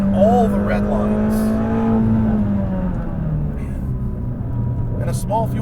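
A Ford Mustang GT350R engine revs up toward its red line, a rising harmonic whine that climbs then settles, loud and close under a voice talking over it.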